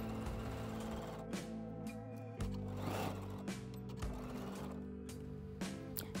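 Sewing machine stitching the inner leg seam of shorts for a pajama set, a continuous mechanical hum and rapid needle rattle running throughout, close and steady, with no talk.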